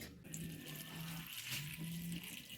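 Water runs into a cooking pot that will sit on a wood-fired stove, a faint, close splashing fill with short tonal gurgles that rise and fall in a few uneven bursts.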